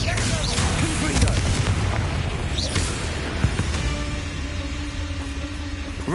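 A booming blast from the Confringo explosive spell in a wizarding video game rumbles loudly amid dense, continuous game noise, with a voice speaking over it.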